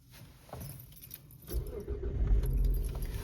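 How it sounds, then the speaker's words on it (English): Keys jangle near the start, then a car engine cranks and catches around the midpoint, settling into a steady idle with rising low rumble; no talking. "I'm gonna crank the car up one more time."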